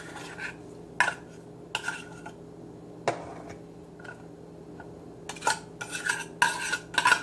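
Canned tuna being emptied into a bowl for tuna salad: scattered clinks and scrapes of metal can and utensil against the dish, a few sharp knocks and a busier clatter toward the end, close by with no talking.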